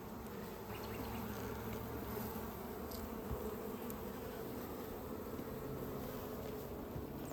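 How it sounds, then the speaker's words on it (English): Honeybees, including drones, buzz steadily in an open hive box, a dense droning hum that stays even and close throughout with no talking. "Just a big male bee."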